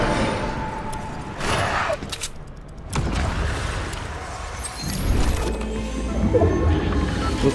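A Fortnite gun fires in a rapid spray, a dense cluster of sharp bursts amid cluttered game noise, loud and nearby, with further shots scattered through the rest of the action.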